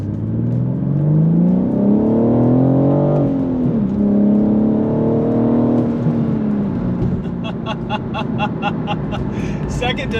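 A manual BMW M4 accelerates hard with a rising engine note, drops pitch at each upshift through the gears, and is loud and close. Someone talks over the engine.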